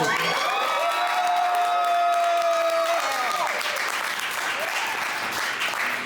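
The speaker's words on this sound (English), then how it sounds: "One more time, nice round of applause for Joyner." Loud audience applause with cheering and whoops fills a talk-show studio, steady and dense throughout, with a brief tonal stinger over the first few seconds.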